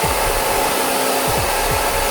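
An ITeracare handheld device blows on its cold setting, a steady close airflow hiss with a low motor hum and a few faint rising tonal sweeps, heard alone.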